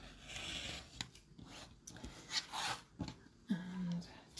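Fabric for a sewn Halloween bat block is trimmed with soft, close cutting and rubbing sounds in short separate strokes, quiet overall with a voice talking in between.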